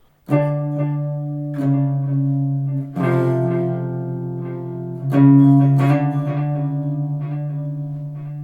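Clean electric guitar chords ring out alone, a few strummed chords each left to sustain and decay, bright and steady with no voices.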